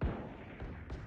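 A single sharp gunshot from the shooter video game Valorant fires at the very start, then quieter game sounds and a second faint burst follow over a low rumble.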